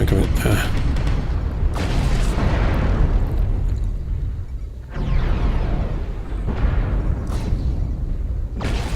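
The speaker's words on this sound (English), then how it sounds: "Artillery strike online. Airstrike. Come in." Airstrike explosions boom in a video game, heavy rumbling blasts and debris roaring in loud waves with a few sharp pops, while speech runs underneath.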